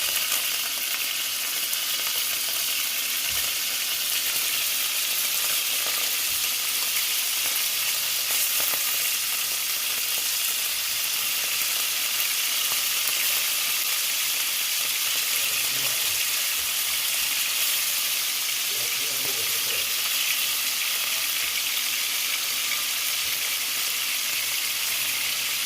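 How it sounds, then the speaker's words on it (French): Ground meat fries in a pan with a continuous, even sizzle and crackle, steady and moderately close throughout, with no talking. "Je grille premièrement la viande hachée."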